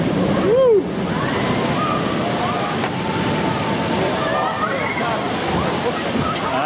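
A big high-tide wave crashes over the seawall at Saint-Malo during a 2015 spring tide, a loud close splash followed by rushing, sloshing water, with excited voices and shouts over it.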